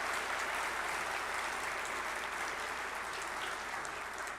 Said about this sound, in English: Could we get another round of applause for the Licking County Developmental Disabilities Board?